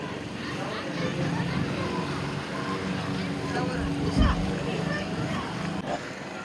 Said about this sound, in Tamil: போட்டி முடிஞ்சு படகுகள் எல்லாம் கரைக்கு வந்துடுதான்.